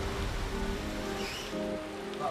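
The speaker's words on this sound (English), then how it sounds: "It's threatening to rain all day, and now it's really coming down." Heavy rain pours down at Bondi beach in a dense, continuous wash of noise, close and steady, with a low rumble beneath.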